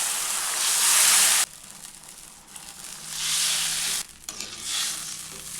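Water poured into a hot pan while cooking a rice dish sets off a loud, hissing sizzle that surges in waves, drops back, then flares again amid light stirring.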